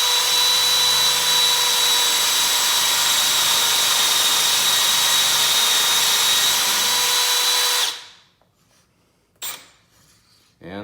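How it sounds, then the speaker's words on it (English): A power drill bores a mortise into a wooden seat, whining loudly and steadily for about eight seconds before stopping abruptly, followed by a couple of brief clunks. "And drill away till I hit my stop."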